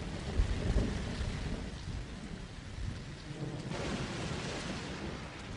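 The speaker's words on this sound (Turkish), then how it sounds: "Büyük bir fırtına geliyor." A thunderstorm with steady heavy rain hissing on surfaces and deep thunder rumbling throughout, loudest early on, with no voices.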